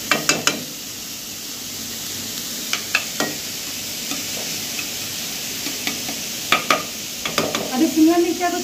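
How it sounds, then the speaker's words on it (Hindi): Chopped onions are spread out and fried in a pan for paneer momos, with a soft continuous sizzle punctuated by sharp scraping clicks of a spoon stirring, heard close and without talk. "इस तरह फैला दे रहे हैं इसको भूनने के लिए।"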